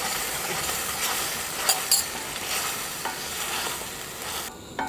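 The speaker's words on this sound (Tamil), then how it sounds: "இப்போ இதை நல்லா வதக்கி எண்ணெய் தெளிஞ்சு வரணும்." Ground masala paste for paneer gravy sautés in hot oil, a constant close sizzle and hiss punctuated by a few sharp scrapes of a spoon stirring the pan.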